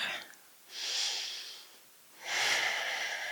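Two long breaths drawn through the nose and mouth during a yoga practice session, each a soft, airy rush lasting under a second, close and alone with no talking.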